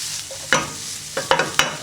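Onions and mushrooms seasoned with salt and pepper fry in a pan for pork fillet, a soft sizzle under a few close scraping stirs of a utensil against the pan.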